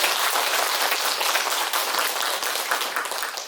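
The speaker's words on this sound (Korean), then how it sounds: "우리 한 박수 하겠습니다." A church congregation claps together at a Sunday worship service, a dense, even wash of applause from many hands lasting a few seconds, moderately loud.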